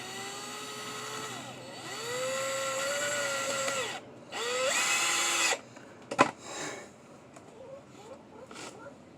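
A cordless power drill drives the first screws through a springy piece while disposing of old tires, with several short whirring bursts that rise and fall in pitch, separated by pauses and a few sharp knocks, up close.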